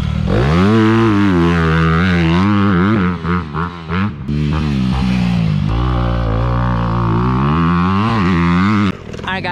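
A motocross dirt bike engine revs hard on a track, loud and close, with the pitch climbing and dropping through several throttle blips before settling into a steady high drone.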